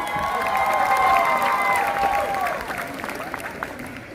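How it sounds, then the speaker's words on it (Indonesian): An audience at a high school orientation event applauds, a dense wash of clapping with some cheering that fades gradually over a few seconds. "Boleh kita berikan tepuk tangan juga."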